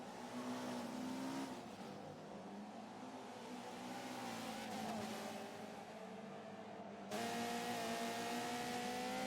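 Touring car engines from an online racing game at Homestead drone and rev steadily, a lawnmower-like car and an Audi among them, with a sharper engine tone rising near the end; no talk.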